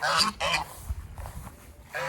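Geese on a small farm honk loudly and close, a couple of harsh calls at the start and another at the end, with quieter farmyard clucking and shuffling between.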